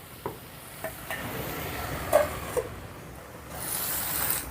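Onions and tomatoes cooking over a medium flame in a covered pan, with a soft continuous sizzle and a few faint scraping stirs and clinks, quiet and close.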